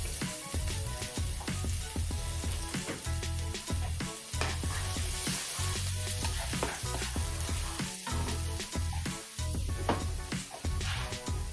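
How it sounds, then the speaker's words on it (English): Garlic sizzles in a hot pan for a bean sprout sauté, a loud, continuous crackling fry with repeated sharp scraping and stirring clacks from a utensil against the pan. "let's saute the garlic"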